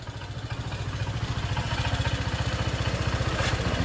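A motorcycle engine running roughly gives a fast, rhythmic chugging that swells slightly as the throttle opens and then settles into a steady, loud, uneven beat close by, with no speech.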